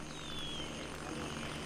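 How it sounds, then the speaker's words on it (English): A helicopter passes overhead in the military shooter Gray Zone Warfare, a steady rotor and engine drone holding at moderate level without a break and fading slightly as it flies on. "Another chopper, is that?"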